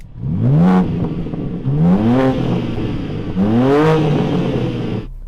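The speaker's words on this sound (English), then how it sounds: "Rev up the new M4," Three loud revs of a new BMW M4 engine in a row, each climbing quickly and falling back to a steady idle, close by and throaty.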